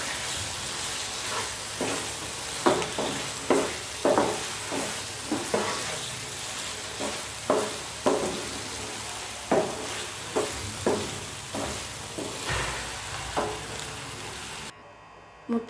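Cabbage halwa being stirred in a pan with ghee-roasted cashews and almonds, repeated scraping strokes at an uneven rhythm over a soft continuous sizzle, close and moderately loud.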